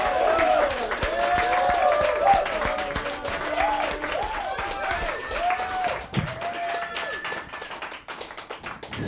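Steady applause from a comedy club audience, many hands clapping at once, loud and continuous, with a few whoops and cheers rising over it before it thins toward the end.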